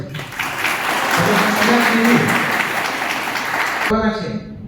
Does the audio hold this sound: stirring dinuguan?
no